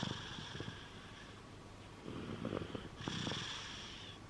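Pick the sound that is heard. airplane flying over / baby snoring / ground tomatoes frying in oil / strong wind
baby snoring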